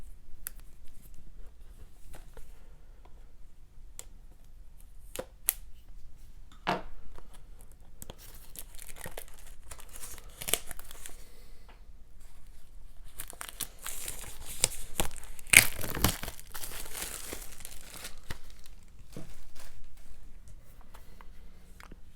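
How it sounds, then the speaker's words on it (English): A trusty pocket knife slices and tears into the plastic and cardboard packaging of an Anne of Green Gables limited edition Blu-ray collector's set, with close, intermittent crinkling, scraping and ripping that builds into a denser burst of tearing midway. "I'm going to get my trusty pocket knife out here and we'll start cracking into this stuff"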